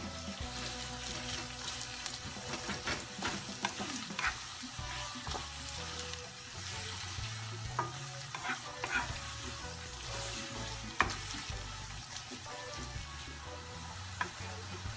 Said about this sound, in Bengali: তেলটা গরম হয়ে গেছে, আমি এই পর্যায়ে পেঁয়াজ এবং কাঁচামরিচ দিয়ে দিচ্ছি।